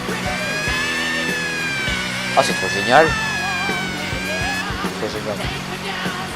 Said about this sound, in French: Ah, il y a même la sirène quoi.